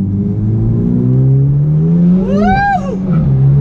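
A boosted Hyundai Genesis pulling hard down the road, a loud, close engine drone climbing steadily in pitch, with a brief whooshing whine sweeping up and down near the end.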